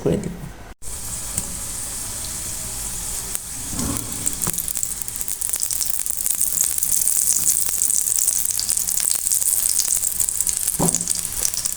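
Cauliflower snacks frying slowly in oil in a pan, a steady close sizzle that grows louder and denser over time, with a few stirring and handling clatters.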